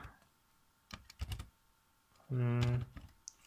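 Names being typed on a computer keyboard: a couple of short bursts of close, crisp keystrokes, followed by a brief voice and a few more taps.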